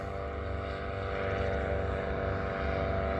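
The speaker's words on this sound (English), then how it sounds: "So he's done 2 touch and goes now." Model airplane propeller during a touch and go landing, a steady droning buzz heard at a moderate distance, continuous and fairly even throughout.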